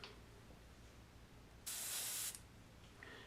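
Airbrush spraying dark paint for shadowy spots on a flesh tone: a steady, loud hiss bursts on for under a second over quiet room noise, then cuts off, followed by a fainter brief hiss.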